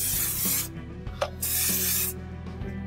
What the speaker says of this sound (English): Just spray a little silicone lubricant on the inside of the pipe